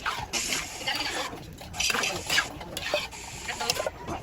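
A mixture being stirred in a bowl for a home birthday meal, with soft scraping and swishing strokes repeating in an uneven rhythm, close and fairly quiet.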